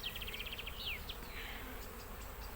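Honey bees buzzing around an open hive frame, a dense, steady hum of many bees close by with individual insects whining past, no talking.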